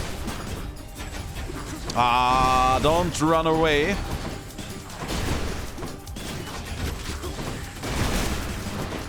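Explosions go off in the action game Hades during combat, a few loud bursts mixed with game music and effects while a character's voice speaks briefly over them.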